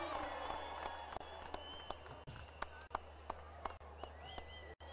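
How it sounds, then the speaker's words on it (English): A crowd in the stands at a cricket league presentation ceremony cheers and applauds, a dense continuous roar with scattered sharp claps, under a voice talking over it. "There's obviously going to be a cheer in the stands whenever you step up."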